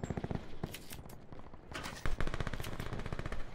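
Rapid automatic gunfire from a wall-mounted gun and other weapons in Call of Duty Blackout on the Alcatraz map, dense bursts of shots filling the clip with brief pauses, loud and close throughout.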